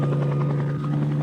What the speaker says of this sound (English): As you see, the choppers have now come down.